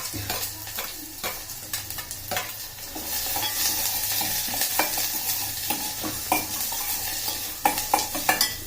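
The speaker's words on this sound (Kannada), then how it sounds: "ಸ್ವಲ್ಪ ಹಸಿಮೆಣಸಿನಕಾಯಿ ಬಾಡಿದ ಮೇಲೆ ಈಗ ಈರುಳ್ಳಿ ಹಾಕ್ತಾ ಇದ್ದೀನಿ" Onion frying with green chillies and curry leaves in hot oil, a close, steady sizzle with frequent spatula scrapes and stirring knocks against the pan throughout.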